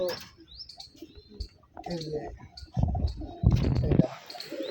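Pigeons in a loft on a pigeon farm give soft coos and scattered chirps, with wing rustles and shuffling close by, while people talk nearby.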